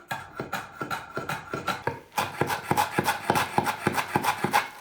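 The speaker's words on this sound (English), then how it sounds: "Now we're going to cut this up into really finely minced pieces." A knife mincing meat and vegetables on a board in rapid, steady chops, at first lighter and spaced, then denser and louder for the second half, close and with no talking.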